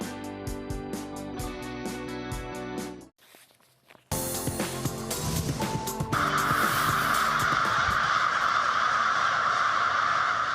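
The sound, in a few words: crows cawing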